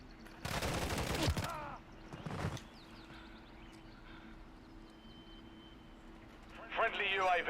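Rapid gunfire in a multiplayer shooter video game rattles out in a long, loud burst, then a shorter burst follows after a pause, and a third flurry of shots starts near the end.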